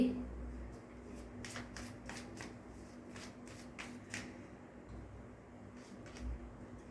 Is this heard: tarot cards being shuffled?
yes